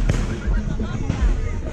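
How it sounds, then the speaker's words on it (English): Fireworks going up at a Fourth of July pull-up-and-park event in Hayes Park, repeated booms and crackles mixed with crowd noise and people talking nearby. "got some fireworks going up."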